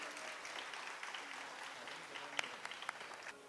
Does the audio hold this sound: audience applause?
yes